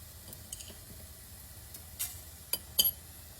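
Cumin and sesame seeds frying in a tablespoon of hot oil, a faint steady sizzle with a few light clinks and pops from the pan.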